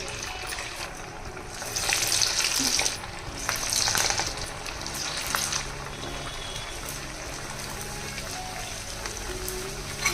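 Corn vadas fry in hot oil with a steady crackling sizzle, swelling louder in two bursts as pieces are turned, then settling into a continuous bubbling hiss.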